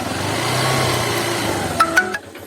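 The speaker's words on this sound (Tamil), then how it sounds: "ஸோ இதை மறுபடியும் போட்டு மறுபடியும் ரேஸ் பண்ணோம் வண்டி." A Honda petrol motorbike running on a DIY 12V 6Ah LiFePO4 battery revs up, its engine swelling to a loud mid-pitched roar before a few sharp blips and a drop-off near the end.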